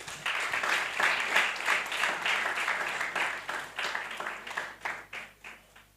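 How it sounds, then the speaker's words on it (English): Applause rises from the audience at an environmental and climate justice moot court competition for the top three teams, a broad wash of many hands clapping steadily, then thinning and tapering off toward the end. "A round of applause for them."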